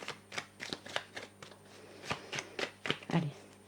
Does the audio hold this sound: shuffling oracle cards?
yes